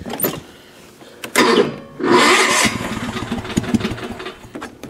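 A Sears SS16 garden tractor engine cranks and catches on a cold winter start, with bursts of cranking followed by a rough, uneven running engine close by, no talking.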